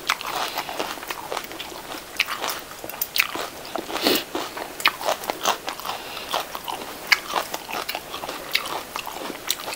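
Close crunching and biting on crispy pork eaten with spicy Isan papaya salad, a steady run of sharp crackly bites and chews with no talking.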